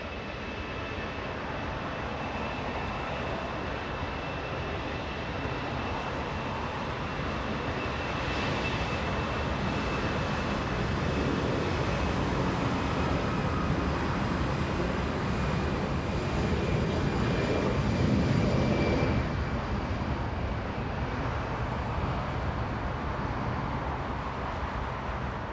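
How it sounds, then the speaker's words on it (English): A C-17 military transport plane comes in at Los Angeles International Airport, a sustained broad engine roar that swells gradually and stays loud, with a faint whine riding above it and no one speaking. "C-17 coming in."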